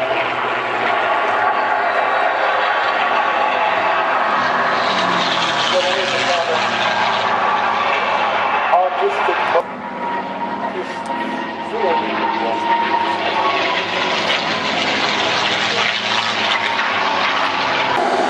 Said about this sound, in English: There's a lovely, satisfying sort of rattling bit about the P-51 as it comes past.